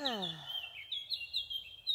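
Birds sing with quick, high chirps and short repeated tweets, fairly faint and spaced through the moment, after a brief falling tone at the start.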